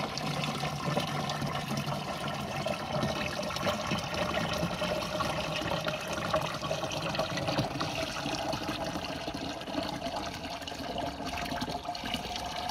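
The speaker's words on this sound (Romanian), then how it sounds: "Acum punem apa cu zahărul." Sugar water pours steadily into a sprayer, a continuous splashing trickle at moderate volume with no talking.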